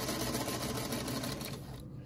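A sewing machine stitches a quilt block with a fast, steady mechanical whir and rattle, close and continuous before slowing to a stop near the end.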